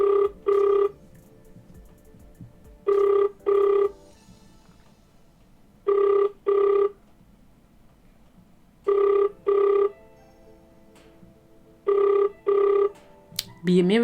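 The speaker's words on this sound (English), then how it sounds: "It's ringing." An outgoing phone call rings through a handset: five evenly spaced double-ring bursts, each pair short and electronic, sounding clear and steady against a quiet line background.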